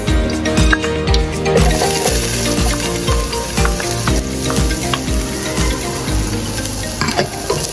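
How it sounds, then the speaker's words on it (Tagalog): Onion sautéing in hot cooking oil at a school cook-off, a steady loud sizzle running throughout with faint utensil scrapes over it. "Ating ilagay ang mantika. Pagkatapos, isunod natin ng sibuyas."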